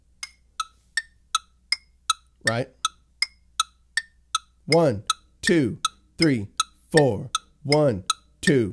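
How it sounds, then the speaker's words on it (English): Crisp, evenly spaced clicks tick at a steady quick eighth-note pulse; after a couple of seconds a voice begins counting along over them. "what you're hearing the clicking of is the eighth note"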